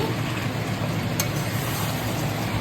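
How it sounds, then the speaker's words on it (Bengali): Mutton sautéing in a hot pan, a loud, continuous broadband sizzle with a steady hiss held throughout, and one brief sharper scrape near the middle. "এই যে এখন আমি মাটন কষাচ্ছি"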